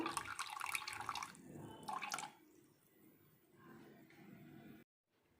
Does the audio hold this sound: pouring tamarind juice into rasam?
yes